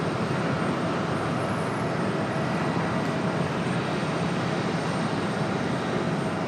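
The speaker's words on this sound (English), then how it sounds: "All right, United 2407, clear for takeoff back to" A United airliner on its takeoff run from runway 23 right at Raleigh-Durham International, a steady, loud broadband jet roar filling the whole stretch without pause, with no talk over it.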